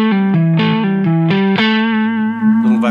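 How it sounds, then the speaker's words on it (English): Electric guitar playing a blues rock riff at half speed, clear distorted single notes and bends in a slow stepping phrase, loud and alone with no talking. "And this riff sounds good at half speed also."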